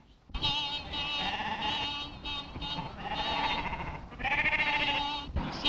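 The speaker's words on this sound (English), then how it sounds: "Sheep all over the road, damn silly things." Many sheep in a flock on a road bleat at once, overlapping and continuous, a loud close chorus of wavering cries with a few short breaks.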